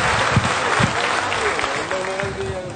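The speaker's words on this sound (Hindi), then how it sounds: "मिस्टर गौतम वाली के लिए एक जोरदार ताली से स्वागत किया जाए।" A crowd at a Vestige marketing gathering claps loudly to welcome Mr. Gautam Wali, with steady dense applause and a few voices and tonal sounds rising beneath it.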